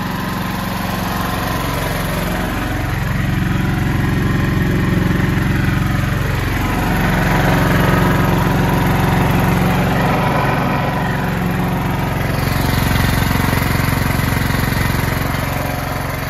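A small Energizer inverter generator engine runs steadily at a moderate, even idle, with a constant low drone and a faint rising-falling whine early on.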